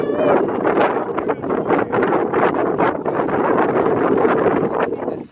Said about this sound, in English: as the wind is going very quickly